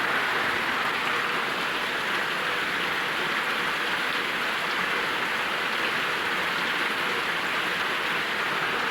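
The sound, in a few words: heavy rain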